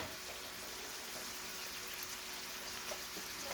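Butter sizzling in a frying pan with rice, a steady, soft hiss of frying that holds evenly throughout at a moderate distance, with no voices.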